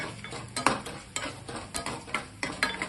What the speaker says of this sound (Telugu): ఆవాలు జీలకర్ర కూడా వేసేసుకోవాలి వేసుకొని దీన్ని బాగా వేయించుకోవాలన్నమాట